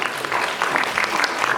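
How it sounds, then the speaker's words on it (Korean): Applause from a seated audience at a youth-employment mentoring concert, a dense, steady wash of clapping filling the short stretch without speech. "자, 여러분 마지막으로 다시 한번 큰 박수 부탁드리겠습니다."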